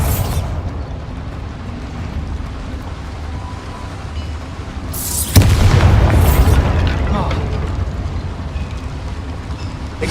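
Bombarda spell explosion in the video game Hogwarts Legacy, a loud booming blast with a rumbling low tail that lasts several seconds over steady game ambience.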